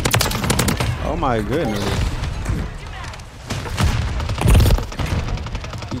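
Rapid bursts of automatic gunfire and booming shots from Call of Duty Modern Warfare 3 gameplay fill the mix, loud and dense, with a player's voice speaking over the action.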